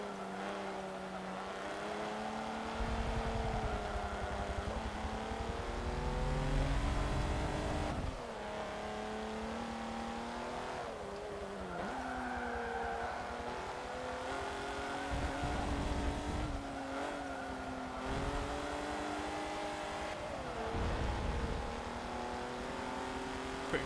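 A Maserati race car engine in Forza Motorsport 7, droning steadily with rising and falling pitch as it accelerates and shifts gears, sustained and moderately loud throughout.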